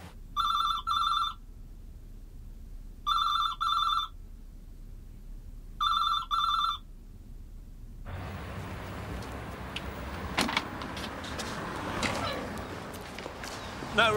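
A telephone rings for a reverse-charge call to London in the 1994 British TV series Minder. It gives three crisp double rings with pauses between them, then stops, and shuffling and rustling noises follow.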